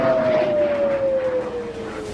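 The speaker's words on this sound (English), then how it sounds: "Explosions lit Israel's night sky and air raid sirens blared." Air raid siren wailing across Israel during a night of explosions and missile strikes, a steady, slowly falling tone held loud and continuous over a dense roar of background noise.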